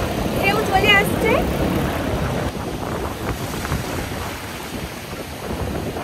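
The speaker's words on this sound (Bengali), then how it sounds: "উচ্ছল উত্তাল সমুদ্র আর ঢেউয়ের গর্জন" Rough sea waves roar and wash steadily onto Bagda Dublagadi beach in Odisha, a continuous surging noise with wind buffeting the microphone and a voice speaking over it.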